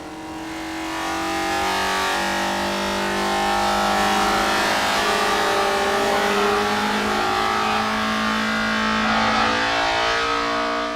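Vauxhall Vectra BTCC race car engine at high revs, a loud sustained buzzing roar that swells over several seconds and holds steady, no talk.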